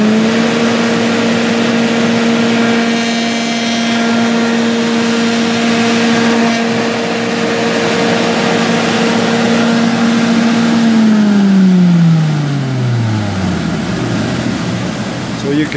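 A multi-use woodworking machine with a feeder runs along a board edge, taking off a millimetre and radiusing the corners. A loud steady motor whine holds for about eleven seconds, then spins down as the cut finishes.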